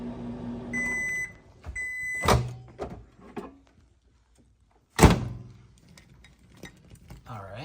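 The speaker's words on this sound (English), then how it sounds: "Put it back in the microwave." Microwave oven melting pink chocolate, with a low running hum ending in repeated beeps, then sharp door thunks and clunks close by, a quiet gap, and another loud door slam.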